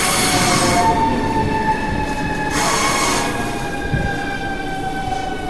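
Russian commuter train in Moscow rolling steadily, a continuous loud rumble of wheels and carriage with faint squealing tones, heard close from on board.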